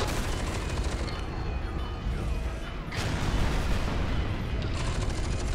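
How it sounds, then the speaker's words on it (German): Dense, continuous gunfire and explosive rumble from the F.E.A.R. 2 shooter fill the whole stretch, loud and close with no pauses, sounding like heavy combat with a brief dip partway through. "Ich kann auch schießen."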